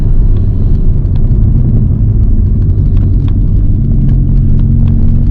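A VW with a BWA 2.0 TFSI engine running while driving, a loud steady low rumble with road noise and faint ticking throughout.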